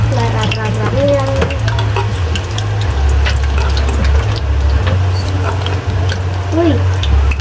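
Oil crackles and sizzles steadily in a pan heating for dried squid, a loud close frying hiss with a low background hum and a person talking over it.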